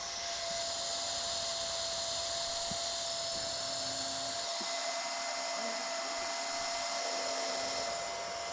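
Hot air welder blowing steadily while welding TPO roofing membrane at an angle change on an EverGuard split pourable sealer pocket, a continuous close hiss and whir running unbroken with no talk.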